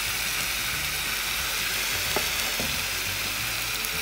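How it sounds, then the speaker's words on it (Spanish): Chicken sizzles and fries in a cooking pot for homemade chow mein, a steady, close hiss with a couple of faint stirring clinks and no talking. "En la misma cacerola vamos a poner el pollo."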